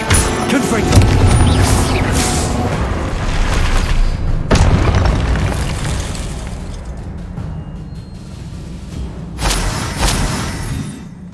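Spell explosions from the Confringo fire spell in the Hogwarts Legacy video game: loud, rumbling booms with sharp bursts near the start, middle and end, amid dense battle noise.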